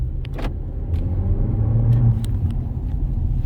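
A 2022 Honda Civic EX with a 1.5-litre turbo engine and CVT accelerates with a steady, loud low engine drone that builds and swells toward the middle, with a few faint clicks over it.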